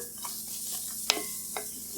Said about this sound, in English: take my onions and drop them right in. And you hear that sizzle, that's how you know it's hot enough.